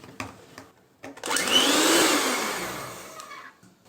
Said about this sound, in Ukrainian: Я буду використовувати міксер.